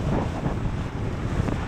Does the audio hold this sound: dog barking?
no